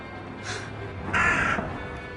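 Crows cawing outdoors around a flat, two harsh calls: a short one early, then a louder, longer caw a moment later, over a steady low background hum.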